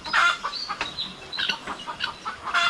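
Hens and a newly arrived rooster cluck and chirp over and over in a farmyard. The calls come in busy overlapping bursts, close and fairly loud, with no talking.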